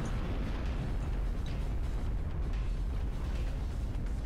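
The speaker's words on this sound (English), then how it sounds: "An explosion of darkness overtook me and I was unable to see anything." An explosion in the video game Danganronpa 2: Goodbye Despair, heard as a loud, sustained, roaring rumble that fills the whole stretch without any break, with no voices.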